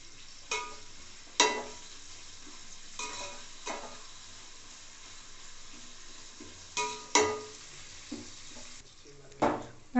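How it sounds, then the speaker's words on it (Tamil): Onions sautéing in a pan for mushroom dum biryani, a low steady sizzle punctuated by scattered loud spatula scrapes and stirs, close up, with no voices. "வெங்காயத்தை இப்போ நல்லா வதக்கிக்கலாம்."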